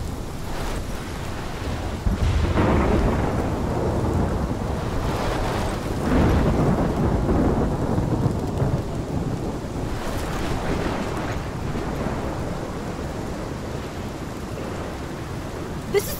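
Thunderstorm in a Life Is Strange machinima, heard as a steady roar of heavy rain and wind with broad rumbling swells that read as distant thunder, loud and continuous with no talking.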